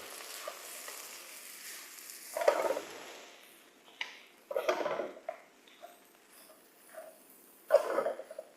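Food being stirred around a frying pan, with a few distinct scraping and sizzling bursts spaced a couple of seconds apart against a quiet background, no talking.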